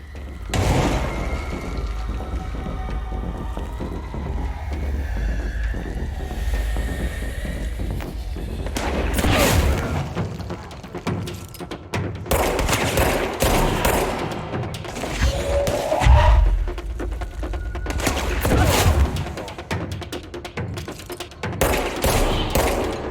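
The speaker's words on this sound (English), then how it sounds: "Oh, grenade." Gunfire and a grenade blast in the PC video game Control, with dense rapid shots and booming thuds that build into a loud, busy firefight across the whole stretch.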